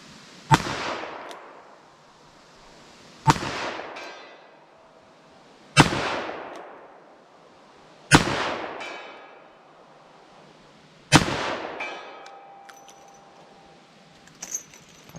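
Five loud handgun shots from .44 Special hand loads go off at a steady pace about two and a half seconds apart. Each sharp crack has a ringing decay outdoors, with a faint clink near the end.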